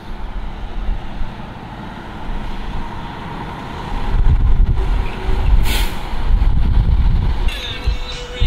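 Busy truck stop outside Las Vegas, with a loud steady rumble of idling and passing trucks, a sharp hiss of air brakes midway, and traffic noise continuing throughout.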